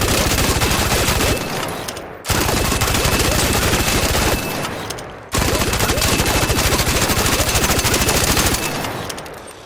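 The Torrente machine gun in ARC Raiders fires in long, loud, sustained bursts of rapid rhythmic shots, three extended strings separated by brief pauses, with a speaking voice heard faintly.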